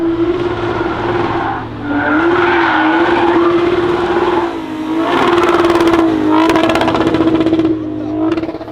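A JDM street car drifts around a street corner, its engine holding a loud sustained drone while the tires squeal and skid, rising and dipping in waves as it slides through the bend, with voices faintly underneath.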